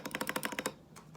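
Fingers type on a Ducky One 2 Mini SF 65% gaming keyboard, giving a quick run of about ten crisp, evenly spaced key clicks up close, then a short pause and one last keystroke.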